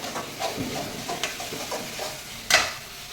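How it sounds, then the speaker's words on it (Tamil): Tomatoes sautéing in onions in a pan for vada curry, a gentle sizzle broken by scraping stirs and one sharper clank of a utensil near the end, close and with no talking. "இப்போது தக்காளி சேர்த்துக்கணும். இதுவும் நல்லா வதங்கணும்."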